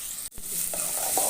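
Green chili and chopped tomato fry in a hot pan with a steady, close hiss of sizzling, broken by a brief stir or clatter near the start.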